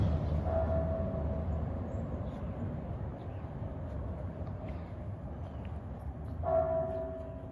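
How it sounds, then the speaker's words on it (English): Church bells ring out at a distance near the main plaza of Barrio de la Cruz on a Sunday morning, two clear strikes several seconds apart over a low background rumble. "See, you can hear the church bells."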